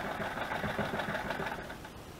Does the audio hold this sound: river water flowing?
no